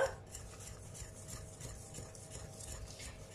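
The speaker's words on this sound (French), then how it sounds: "maintenant je mélange tout ça" A sugar-free apple tart mixture is stirred in a bowl with a steady, close scraping and rubbing rhythm, continuous and fairly soft, with no voices.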